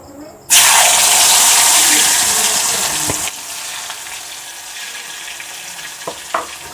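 Potatoes seasoned with turmeric and salt drop into hot oil in a pan, setting off a sudden loud hissing sizzle that holds for about three seconds, then falls to a quieter fry with a few light clicks.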